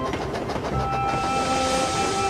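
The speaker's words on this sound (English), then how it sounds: "Gordon and Percy puffed through the snowy countryside, and Gordon didn't show off once." Steam locomotives in an animated show rumble along the rails through snowy countryside, a loud continuous rolling rumble with rhythmic chuffing and steady tonal hums, no voices.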